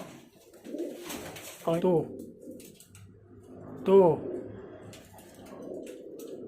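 Bandangan pigeons cooing close by, two distinct throaty coos a couple of seconds apart, with a person talking quietly in between.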